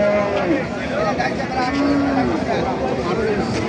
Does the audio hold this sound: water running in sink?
no